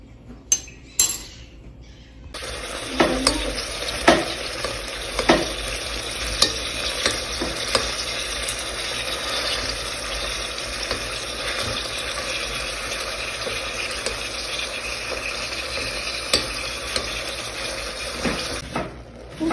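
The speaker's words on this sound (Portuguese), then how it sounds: "fiquei na função de... refogar a carne moída" Ground beef sautés in a pan with garlic, giving a loud, continuous sizzle and spatter, with repeated scraping stirs and a few sharp knocks throughout.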